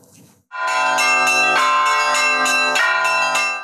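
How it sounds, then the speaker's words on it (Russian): Church bells ring loudly and close at a bell-ringing festival in Urzhum, Kirov region, several bells struck in a steady, overlapping peal after a brief quiet start. "Колокольный звон разливается над Уржумской землей Вятского края целый день."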